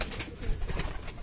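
Pet pigeons coo softly nearby in a brief, low burst of throaty calls.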